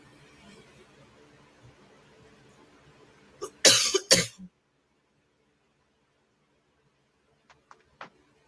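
A woman's short burst of harsh coughing close by, three or four coughs in quick succession, then quiet with a couple of faint clicks.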